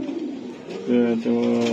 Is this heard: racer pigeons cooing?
yes